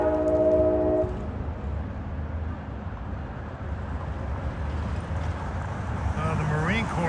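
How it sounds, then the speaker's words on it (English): A K5LA air horn on a New Jersey Transit cab car gives one short, loud chord, then fades into the rumble of the train moving along the line. "That's probably one of the loudest cab cars you'll hear with the K5LA."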